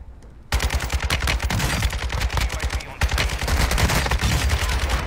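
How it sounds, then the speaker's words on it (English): Sustained bursts of automatic gunfire in a multiplayer shooter video game, dense rapid cracks and rattles firing almost continuously and loudly for several seconds, with a brief dip before another volley. "Don's getting shot at by somebody too"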